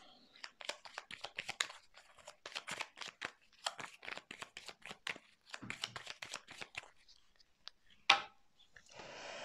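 Tarot cards are shuffled for a reading in a long, quiet run of soft papery riffles and slides, with a sharper snap near the end.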